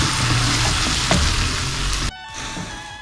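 Tomato paste fries loudly in a pan for a bean stew with pastırma, a dense crackling sizzle that cuts off abruptly near the end, leaving a quieter, thinner hiss.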